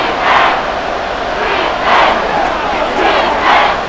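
A stadium crowd in the Madden NFL 24 video game roars in swelling, rhythmic waves of cheering, loud and continuous with no distinct voices standing out.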